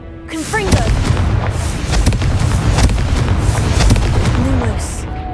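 Confringo blasting spell cast in Hogwarts Legacy during exploration of a haunted shop, a series of loud booming blasts with rumbling low end, with a voice briefly heard at the start and near the end.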